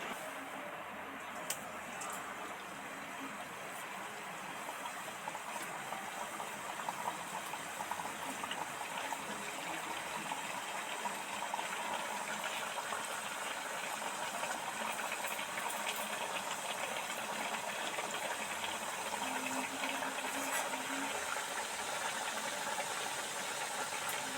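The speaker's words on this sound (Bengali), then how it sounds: "এবার আস্তে আস্তে একটা একটা গজা তেলের মধ্যে ছেড়ে দেবো" Chhana gaja, cottage-cheese sweets, frying in hot oil in a wok over a low flame: a steady, even hiss and bubbling sizzle that runs unbroken at moderate level, with no voices.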